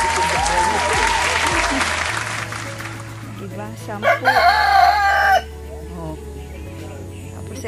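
A rooster crows loudly and close by, with chickens clucking in a chicken coop, amid steady background noise and some talking.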